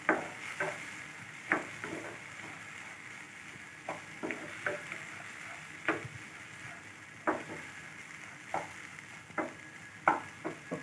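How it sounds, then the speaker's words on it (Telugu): Moringa leaves and moong dal frying in a pan, a quiet steady sizzle broken by sharp spatula taps and scrapes at irregular intervals, close by. "ఒక 4 నిమిషాలు ఫ్రై అవ్వాలి."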